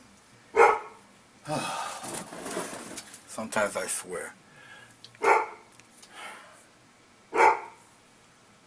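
A dog barks loudly nearby three times, spaced a few seconds apart, while someone talks in between.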